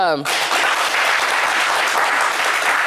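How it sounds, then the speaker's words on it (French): Studio audience applauding loudly and steadily for the competing teams on a French television game show, a dense, sustained clatter of clapping after a brief voice at the start. "On va les applaudir très fort"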